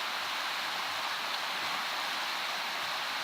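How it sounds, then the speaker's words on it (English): Mill Creek in the Absaroka Mountains rushes past close by, a steady broadband wash of flowing mountain water that holds even and unbroken throughout, with no voices. "sorry about the noise, because I am right along a place called Mill Creek up here in the Absaroka Mountains"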